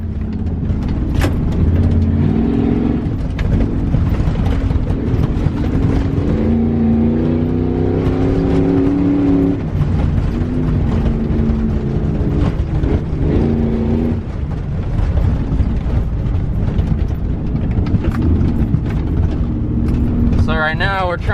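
A prerunner truck drives over loose, sandy dirt trails near a lake, its engine droning steadily and loudly throughout with shifting revs, while people talk over it.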